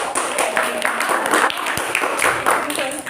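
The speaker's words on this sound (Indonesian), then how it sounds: "beri tepuk tangan untuk kelompok 2." Classroom of students claps for a presenting group, a close, fairly loud burst of uneven clapping mixed with young voices chattering throughout.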